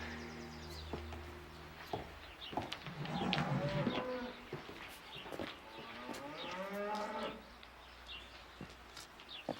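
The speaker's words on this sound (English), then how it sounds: "I need a hat to milk a cow." Cattle moo on a ranch in long, low calls that rise and fall. The lowing sits at a moderate distance and is softly layered with faint bird chirps and scattered clicks. There is no speech.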